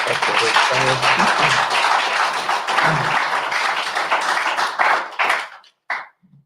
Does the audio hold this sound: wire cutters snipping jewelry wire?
no